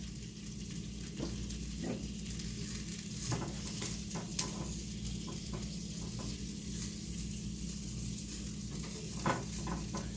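A burger frying in butter in a pan, a continuous close sizzle with occasional crackles and light pops, no talking.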